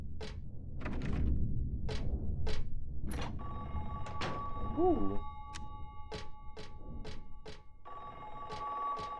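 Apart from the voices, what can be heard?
telephone ringing in Silent Hill 3 video game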